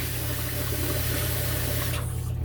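Steady broadband rush of water running into a bathroom sink for rinsing after a shave, constant and close, cutting out near the end.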